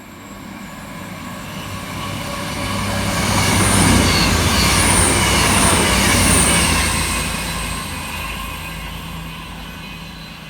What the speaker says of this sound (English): First up to fly through the station will be 221-114, working 1 Mike 21 for cross country